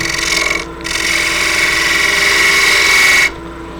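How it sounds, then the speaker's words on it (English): A spindle gouge trims the rim of a small wooden quaich bowl spinning on a lathe, giving a loud, steady rasping cut that starts briefly, pauses for a moment, then runs continuously for a few seconds before stopping abruptly. "I've got a little bit of a ridge right here on the rim that I'm just going to take the spindle gouge and clean up ever so slightly"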